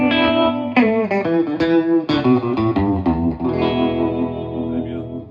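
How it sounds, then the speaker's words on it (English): Electric guitar played through a Big Tones Maggie pitch-bending vibrato pedal in mono, a string of picked notes and chords warbling and sliding in pitch, loud and close, ringing out at the end. "It's a pitch bending vibrato pedal made by Big Tones called the Maggie."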